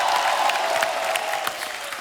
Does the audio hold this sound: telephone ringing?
no